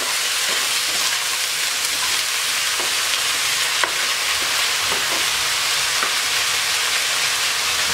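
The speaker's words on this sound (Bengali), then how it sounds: "সিম আলু কুচি এবার একটু নাড়াচাড়া করে দেবো" Flat beans and diced potatoes sizzle in a pan for a mixed vegetable fry, a loud constant hiss with scattered soft scrapes and taps as they are stirred, no voices.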